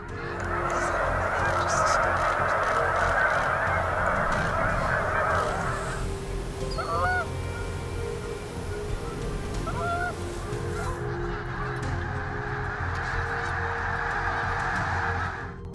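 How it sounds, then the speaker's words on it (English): Wild geese honk in repeated, loud, clustered calls over a steady outdoor background, with a quieter gap in the middle before the honking resumes. "Wild geese preferred eating grass and trampling on grassy areas"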